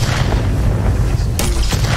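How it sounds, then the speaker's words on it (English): Projectile explosion effect from an Unreal Engine 5 first-person game template, a loud booming blast over a heavy low rumble, with a sharp crack near the end. "that explosion"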